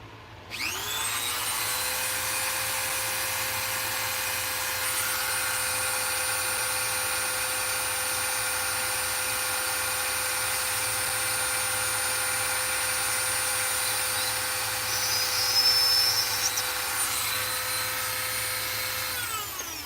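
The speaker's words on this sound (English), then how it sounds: "I need to kind of re-drill that hole a little bit." A steady, high-pitched whine of a power drill re-drilling a hole runs continuously for about twenty seconds, close and loud, with no talking.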